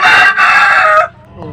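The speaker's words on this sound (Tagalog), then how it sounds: "Dalawang manok na yan." A single loud rooster crow, close and clear, rising then holding before breaking off, followed by faint background sounds.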